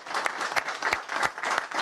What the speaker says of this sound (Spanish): Un aplauso merecen ustedes,